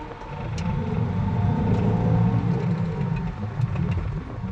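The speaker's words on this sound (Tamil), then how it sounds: "அது மாதிரி புல்லிங் போகிறோம் பாருங்க இப்போ உங்களுடைய செகண்ட் இயர்ல போட்டு இது பண்றேன்" A Honda car's engine pulls in second gear while driving, a steady low rumbling drone with road noise heard from inside the cabin, holding even throughout.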